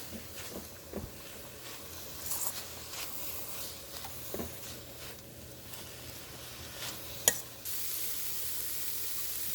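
Carrot fry with grated coconut is stirred in a pan over a soft, continuous sizzle, with faint intermittent scrapes and one sharp clink near the end. The sound is fairly quiet and there is no talking.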